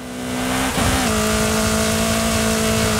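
A race car engine in Forza Horizon 5 revs hard and holds a loud, steady drone, briefly dipping before climbing back to a sustained high pitch, close and without talk.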